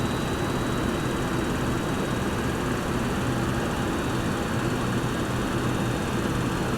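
Jet engines of a Boeing 727-100 in a flight simulator, throttled back, produce a steady, even broadband roar that holds at a constant level without any change for several seconds.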